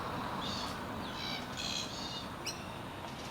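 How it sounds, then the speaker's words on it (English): Short, harsh calls of a glossy black-cockatoo ring out several times at a moderate distance over steady background hiss. "Glossy calls, they're a little bit harsher, shorter."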